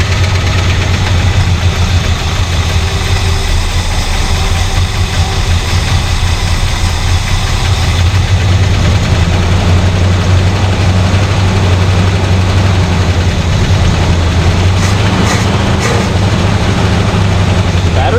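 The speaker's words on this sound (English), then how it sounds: "we're getting a little bit of backfire poppage" A 1974 Plymouth engine, revived after sitting twenty years, runs loud and close with a rough, uneven idle and occasional pops, heard alone without talk.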